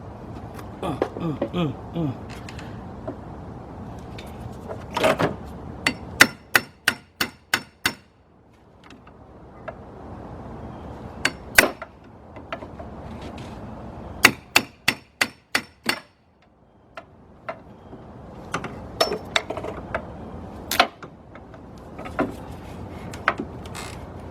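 Sharp hammer blows strike in quick bursts of several hits on a 1999 Ford Expedition during radiator replacement, with pauses between rounds and someone talking now and then.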